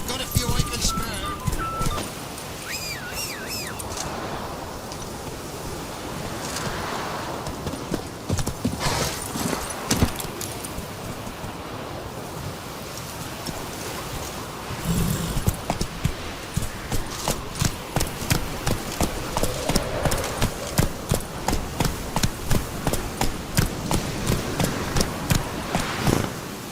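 A horse galloping and trotting in The Witcher 3 video game, rhythmic hoof clip-clop that starts steady and speeds into a fast, even gallop, with game dialogue and music early on.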